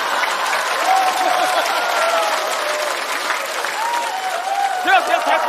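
A comedy-show studio audience applauds loudly and continuously after a song, a thick crowd roar of clapping, with some voices and music faintly underneath.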